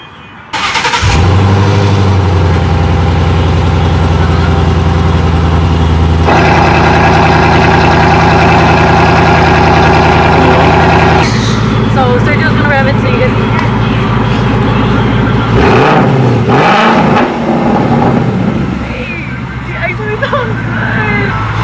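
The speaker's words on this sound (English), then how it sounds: "I'm gonna do a little test run so you guys are gonna be able to hear the exhaust for the very first time." A 2015 Ford Mustang with a stainless steel Valvetronic exhaust starts up and settles into a loud, deep idle, then blips its throttle in a few quick revs near the end, with some indistinct voices in the background.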